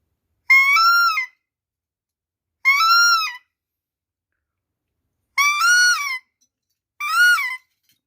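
Four short, high, bleating whistled calls blown on a barking deer decoy imitating a fawn, each about half a second, spaced apart with silence between.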